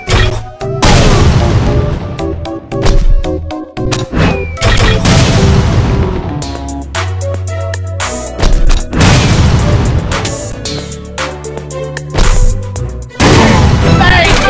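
Loud, repeated bomb explosions in the video game Bombing Busters, booming blasts arriving in heavy clusters every couple of seconds with short quieter gaps and game music between them.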